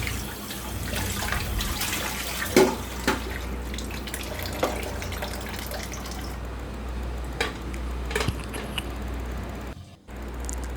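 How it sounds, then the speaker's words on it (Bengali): Plates and bowls being washed under a running kitchen tap, a steady water hiss broken by clinks and knocks of dishware, fairly close, with the flow cutting out briefly near the end. "আমি এখন কিছু প্লেট বাটি আছে এগুলো ধুয়ে কিচেনটাকে ভালো মতো পরিষ্কার করে"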